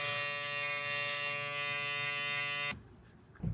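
An electric hair clipper fitted with a Blur Guard attachment runs close up with a steady, even buzz for a few seconds, then switches off, leaving quiet with a faint bump at the end.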